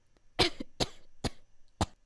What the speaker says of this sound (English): he heard coughing from underneath the rubble